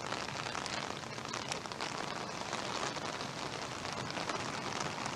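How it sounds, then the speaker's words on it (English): Heavy rain pouring down steadily on a golf course during a par-3 hole in a tournament, a dense, even hiss of drops across the whole stretch with no voices heard. "Rain coming down even harder now."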